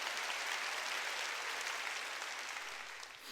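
A church congregation claps together during a Sunday worship service, a dense steady patter that holds evenly and begins to fade near the end.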